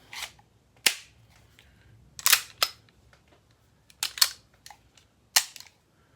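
Sharp mechanical clicks and snaps from a freshly cleaned handgun during a function check, a handful of crisp close metallic clacks spaced out over quiet.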